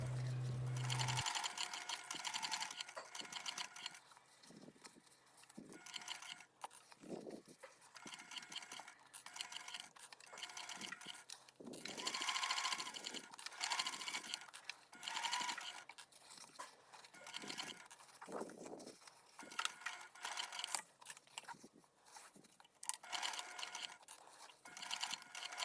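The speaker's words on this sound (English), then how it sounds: "Sew the layers together using a 1/4 inch seam allowance." A sewing machine stitching layers of a crossbody bag together with a quarter-inch seam, running in short whirring bursts separated by pauses, with faint handling clicks and fabric rustle between runs.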